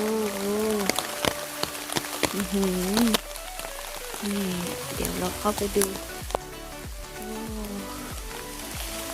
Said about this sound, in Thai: ฝนเทลงมา เทลงมา